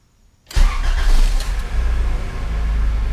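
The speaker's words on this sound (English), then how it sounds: "The car starts up so quiet now." A Honda Civic engine starting after its squeaking drive belt was tightened, cranking abruptly out of near silence and settling into a steady, loud, low idle close by, with no belt squeal.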